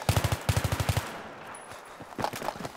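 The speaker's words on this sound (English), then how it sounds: "Shoot a few warning shots" Video game gunfire in a 5v5 match rattles off in a fast, loud automatic burst, goes quiet for a moment, then returns as a few more scattered shots. No one speaks.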